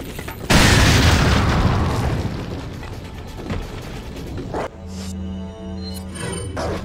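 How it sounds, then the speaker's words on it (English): A grenade explosion in the video game Resident Evil 4: one loud, deep boom with a long rumbling decay, followed by quieter mechanical game sounds. "I need to throw a grenade now."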